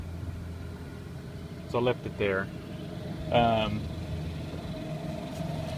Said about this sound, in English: seemed to be idling pretty nice and smooth at 12.